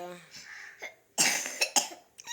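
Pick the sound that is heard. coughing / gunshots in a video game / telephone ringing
coughing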